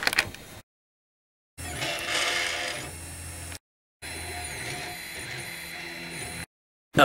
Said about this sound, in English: I'm going to be printing it in my black Hatchbox PLA